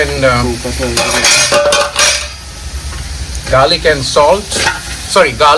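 Marinated mutton fries with onions in a pan, sizzling loudly while a utensil scrapes and clinks as it is stirred, with a voice talking over parts of it.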